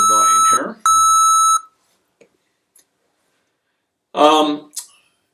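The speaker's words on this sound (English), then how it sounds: "I'm just going to turn off those beeps because they're a little bit annoying here." A pace clock app gives two long, shrill electronic beeps in quick succession, loud and close, followed by near silence with a couple of tiny clicks, then a brief spoken voice.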